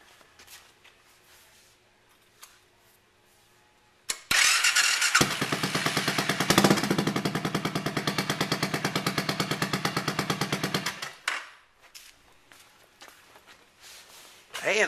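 A Suzuki Savage S40 motorcycle fitted with a drag pipe and wrapped exhaust starts up and settles into a loud, rapid, steady thumping idle. It runs for several seconds and then cuts off, with faint sounds before and after.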